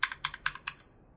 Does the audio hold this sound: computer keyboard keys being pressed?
yes